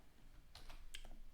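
Several quick key taps on a computer keyboard at a server terminal, a short irregular burst of soft clicks, close but quiet over low background hum.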